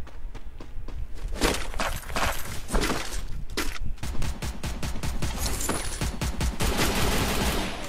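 Dense, rapid video game gunfire in a shooter match, with bursts of automatic fire and overlapping shots cracking loudly and almost without a break.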